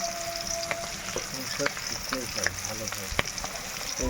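Spices fry in hot oil for a homemade chicken roast, a loud, continuous crackling sizzle broken by clinks and scrapes of stirring, close up, with no talk.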